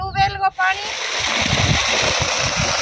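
High-pressure water gushes from a new village tubewell, a loud, steady splashing roar that continues throughout, with a brief voice speaking at the start before the rushing water takes over.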